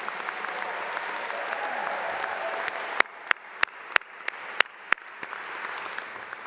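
A commencement audience at the Nicholas School of the Environment gives graduates a steady round of applause, moderately faint and sustained, with several sharp, close individual claps popping out in the second half.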